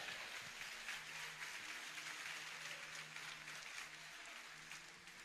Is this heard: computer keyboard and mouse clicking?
no